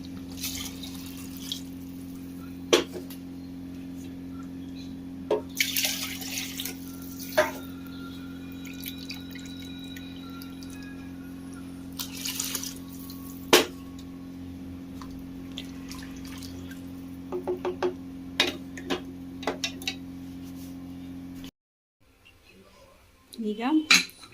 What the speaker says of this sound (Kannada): ಇವಾಗ ನೀರು ಹಾಕ್ಕೊಳ್ತೀನಿ.